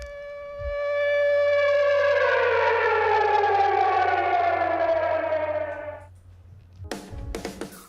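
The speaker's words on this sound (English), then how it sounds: "many Israelis were forced to run to shelter regularly as rocket sirens sounded throughout the country" A rocket warning air raid siren in Israel wails, rising then holding a long, slowly falling tone before fading, followed by a few sharp knocks.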